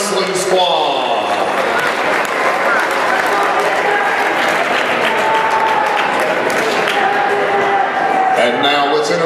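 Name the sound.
crowd applause for high school wrestling squad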